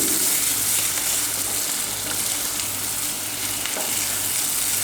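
Mutton liver sautéing in a pan, a steady dense sizzle with faint stirring scrapes running continuously, close and fairly loud.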